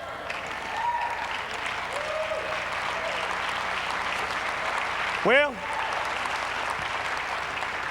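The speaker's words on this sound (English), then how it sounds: "got about half the people clapping on that one." Church congregation at a revival service clapping in a steady, moderately loud wash of scattered hands, with a voice speaking briefly over it and a short rising whoop partway through.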